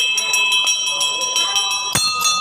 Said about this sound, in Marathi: घंटी वाजवत आहे।